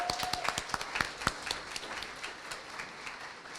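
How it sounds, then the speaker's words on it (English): Applause from an event audience honoring a host committee at an Ohio gathering: sparse, separate claps near the start that thin into a soft, scattered patter. "Applaud our host committee members,"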